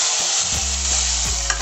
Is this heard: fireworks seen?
no